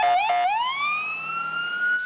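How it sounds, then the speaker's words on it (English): Ambulance siren wailing loud and close as emergency vehicles pull up to a hospital emergency room, a rising electronic tone sweeping upward and holding, with a brief yelp at the start and a sharp burst at the end. "Sirens, panic, chaos was the scene at Midland Memorial as ambulance after ambulance pulls up to the emergency room"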